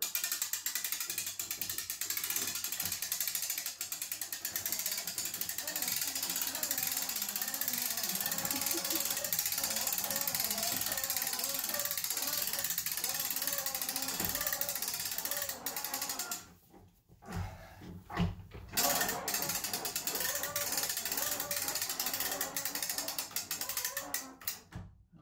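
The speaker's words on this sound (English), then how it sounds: "If I crank this, it should pull all of those and pull the entire bed lift up." A hand crank ratchets steadily to raise an adjustable bed lift, its rapid pawl clicks running loud and close for about sixteen seconds, pausing briefly, then resuming.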